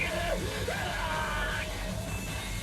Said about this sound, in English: With a cry that is part scream, part roar, Koji